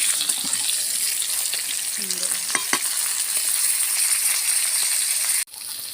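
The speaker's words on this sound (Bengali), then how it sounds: "পটলটা ভাজা হয়ে গেছে এবার আমি তুলে নেব" Pointed gourd (potol) frying in hot oil sizzles steadily and loudly up close, with a few scraping stirs partway through before the frying noise drops off abruptly near the end.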